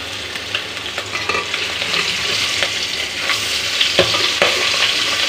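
Hilsa fish fries in a pan with a loud, continuous sizzle, broken by occasional sharp pops and clinks from stirring, with no talk.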